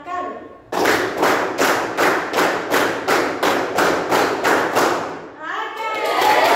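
A classroom of students claps in unison on command, about a dozen sharp, evenly spaced claps in a steady rhythm, loud and close, with a teacher's voice briefly before and after.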